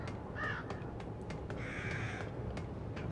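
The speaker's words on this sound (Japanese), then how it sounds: "カラスの声が聞こえるぐらいのんびりとした感じ。" Crows caw in the Psycho Break video game, with several distinct caws standing out over a steady low ambient rumble.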